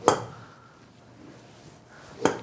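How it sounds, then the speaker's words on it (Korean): Two sharp impacts of a golf driver's sole striking the ground, one at the start and one near the end, each a brief crisp thud with quiet between. "헤드의 어느 부분이 지면과 지금 현재 맞고 있는지 한번"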